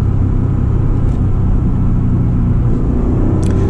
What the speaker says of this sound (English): give you an overview and a cockpit view of what it's like to drive this car on some spirited backroads